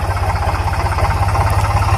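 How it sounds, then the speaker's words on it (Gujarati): A tractor loaded with sugarcane runs through floodwater, its engine holding a steady, close, low rhythmic throb with no voices. "અત્યારે આપણું ટ્રેક્ટર શેરડીનું ભરાઈને હાયલું આવે છે"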